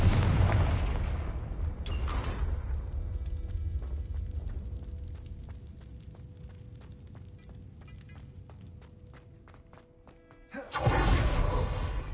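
The Confringo fire-blast spell in Hogwarts Legacy goes off as a loud booming explosion, followed by a long fading rumble, then a second forceful burst near the end.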